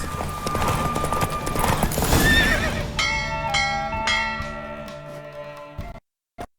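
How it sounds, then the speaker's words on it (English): In The Witcher 3 video game, hooves clip-clop at a gallop as a horse neighs loudly, then bright chiming tones ring out before the sound cuts off abruptly. "Don't spare the horse."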